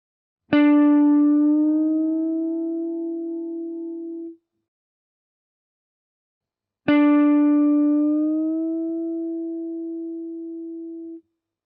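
Two plucked guitar notes, each sustained for several seconds while the pitch slowly rises as the string is bent, ringing clearly with no talk.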